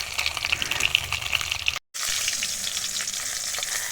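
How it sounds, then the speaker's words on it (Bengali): Shatki fish rubbed with salt and turmeric sizzles loudly in a pan of hot oil, a steady crackling hiss that cuts out for a moment and then resumes, with no talking. "ভালো করে উল্টে পাল্টে মাছটা ভেজে নেব।"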